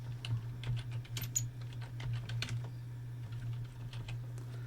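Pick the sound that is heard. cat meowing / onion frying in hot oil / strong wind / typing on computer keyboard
typing on computer keyboard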